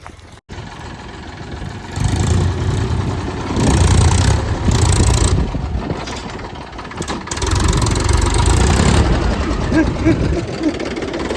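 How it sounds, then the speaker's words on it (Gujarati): A tractor engine runs steadily in a field where it seems to be getting stuck, a loud low rumble that swells and revs in several surges, with people talking over it. "હવે ટ્રેક્ટર ફસાઈ જાય એવું લાગે છે"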